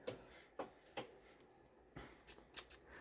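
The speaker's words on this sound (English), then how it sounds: "we're going to cut these out, and I'm just going to use my scissors here" Several sharp, brief snips spaced irregularly, quiet and close, like scissors cutting through paper, with short pauses between cuts.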